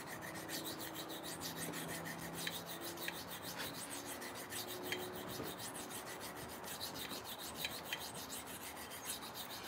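Steady rhythmic rubbing and rasping as a blade is worked against an 80 grit sharpening stone, a continuous quiet scraping with regular back-and-forth strokes and no talk.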